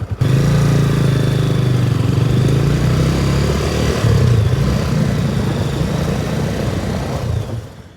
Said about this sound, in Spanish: Esta moto para arrancarla ni siquiera hay que acelerar ni nada.